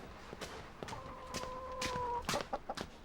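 Hens cluck in short repeated bursts nearby, with a drawn-out tonal call in the middle, over a low steady background.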